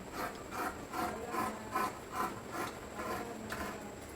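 Fabric being cut for a frock nighty, giving a quiet, steady rasping rhythm of repeated cutting strokes roughly every half second over a soft background hiss.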